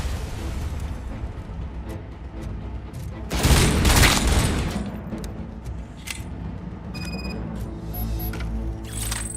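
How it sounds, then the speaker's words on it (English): Assault rifle fire in the RoboCop: Rogue City video game, a dense continuous clatter of shots that swells into a loud burst before easing back into sustained firing. "Assault rifle."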